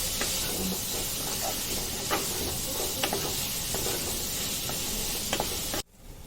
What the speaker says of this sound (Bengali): স্বাদ মতন লবণ দিয়ে এবার এটাকে একটু নাড়াচাড়া করবো একটু ভাজা হবে